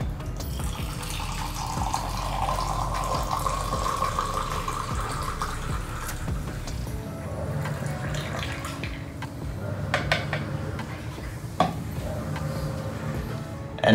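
Water pours steadily over ground coffee in a pour-over brew of coffee from a 1Zpresso XPro grinder, a continuous close trickle and splash that runs for the whole stretch with small clinks near the end.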